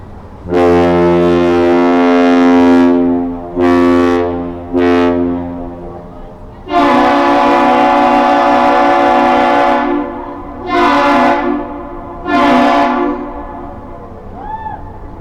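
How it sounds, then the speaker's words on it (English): The lake freighter John D Leitch, loaded with iron ore pellets, exchanges one long and two short deep horn blasts with the Duluth aerial lift bridge, which answers with its own long-short-short blasts; loud, resonant, and close. "That one long and two short whistle exchange that you just heard between the John D Leitch and answered by the aerial lift bridge operator"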